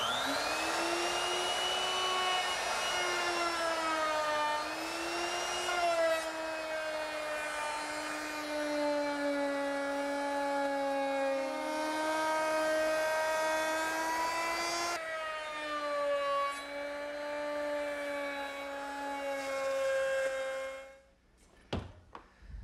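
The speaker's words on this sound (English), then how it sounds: "I'm ready to round over the edges on my top. And for that, I'm going to use a ½ inch rounding over bit" A router fitted with a half-inch roundover bit rounds the edges of a wooden trestle table top, a loud steady high whine with shifting pitch running continuously for about twenty seconds before cutting off and spinning down.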